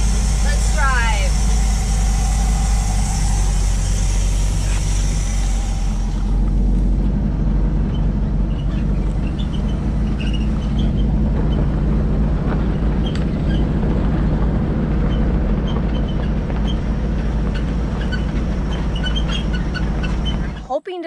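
An RV engine pulls away with a steady low rumble that runs unbroken throughout, ending in a brief clunk.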